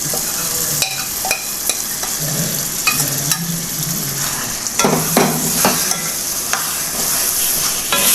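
Cooked beef tipped into softened onions frying in a pan for a homestyle Kerala beef curry: a steady loud sizzle with scattered clinks and scrapes of stirring throughout, no talk.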